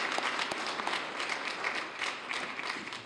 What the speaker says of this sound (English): Let's give Lee a round of applause